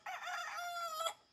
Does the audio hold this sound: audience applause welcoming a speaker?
no